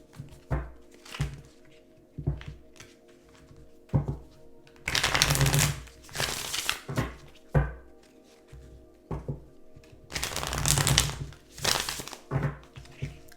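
Tarot cards are shuffled by hand in irregular bursts of riffling and soft slaps, close and fairly quiet, with short pauses between rounds.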